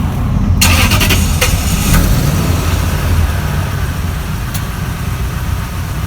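A Lexus GS430 V8 starting up, heard from behind the car: a quick cranking burst catching into a loud, steady idle rumble that settles and continues close by.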